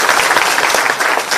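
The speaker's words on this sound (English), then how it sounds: "Can I have a big round of applause" A crowd at a Father's Day special event claps loudly and continuously, a close, dense wash of hands with small surges in intensity.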